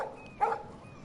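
A single short dog bark in the video game Life is Strange, a brief muffled woof at moderate distance against a quiet background.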